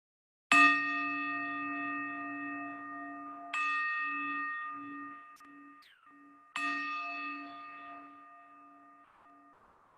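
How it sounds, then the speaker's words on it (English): A meditation bell rung three times to open a practice session, each strike a clear, close metallic tone that rings out and decays slowly, the strikes spaced a few seconds apart in a quiet room. "So you'll just hear a bell in just a moment."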